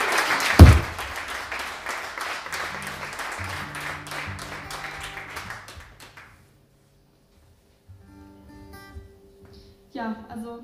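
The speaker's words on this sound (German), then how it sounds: "Und für die beiden bitte einen Applaus." An audience applauds for two musicians at a small live show, a burst of clapping that thins and stops after about six seconds, followed by quiet stage sounds and a faint voice.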